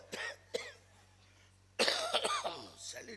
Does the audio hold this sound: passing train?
no